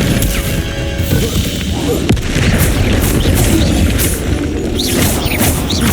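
A Confringo blasting spell in the game Hogwarts Legacy erupts in loud, continuous explosive crashes and booms, with dense clattering debris filling the sound.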